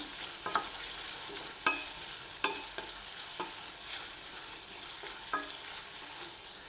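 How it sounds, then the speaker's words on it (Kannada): Ten to fifteen curry leaves fry in a pan of golden onions for upma, crackling in a dense constant sizzle, punctuated by several sharp scraping strokes of a spoon, close and loud with no voices. "ಹತ್ತು ಹದಿನೈದು ಎಲೆಷ್ಟು ಕರಿಬೇವಿನ ಸೊಪ್ಪು ಹಾಕ್ಕೊಂಡಿದ್ದೀನಿ ಇದನ್ನು ಅಷ್ಟೇ ಫ್ರೈ ಮಾಡ್ಕೋಬೇಕು"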